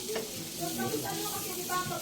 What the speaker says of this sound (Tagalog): Ilalagay na po natin yung itlog.